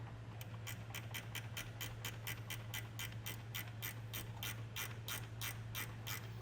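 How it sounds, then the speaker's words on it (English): A gear wrench ratchets a nut tight onto a ring terminal at a wiring ground point on a 2023 Jeep, giving a steady run of quick, crisp clicks close by in a quiet space. "I'm just using a gear wrench to go ahead and get that tightened down."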